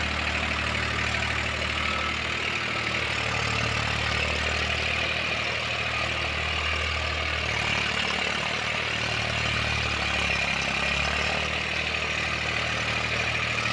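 A Farmtrac 60 EPI tractor engine runs under load while driving a rotavator in a field, a steady low droning rumble that holds at an even level throughout with no talk.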